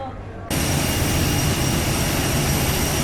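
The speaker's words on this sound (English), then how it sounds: "About 12-year-old aircraft with EasyJet, CFM56 engines" A steady, broadband roar from the CFM56 jet engines of a roughly 12-year-old EasyJet airliner swells in abruptly after a quieter opening and then holds loud and constant.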